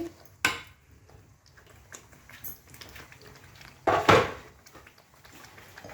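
Sauce of yogurt and cashew paste with a little sugar being stirred in a pan, heard as quiet intermittent scrapes with two sharp clanks of utensil on metal, one early and a louder one later.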